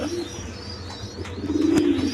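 A pair of Lotan pigeons coos softly and steadily, a low rolling murmur that swells slightly near the end, with faint background chatter and no clear talking.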